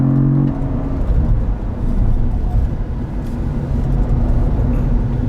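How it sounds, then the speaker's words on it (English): A 2022 Cadillac CT4-V Blackwing engine pulls hard out of a corner on a racetrack, with enough torque to spin the rear tires. It gives a loud, steady, close-miked drone that swells and dips slightly with the throttle and has no talk over it. "the engine's got enough torque that I'm spinning the rear tires on exit."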